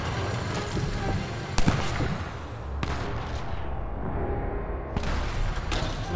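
Dense, continuous game gunfire with repeated sharp bursts over a constant noisy backdrop, a louder crack standing out partway through.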